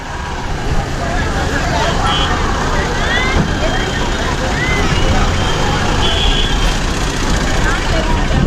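Busy street traffic at Tenali market hums loud and steady, with vehicles passing and crowd chatter, while people talk nearby.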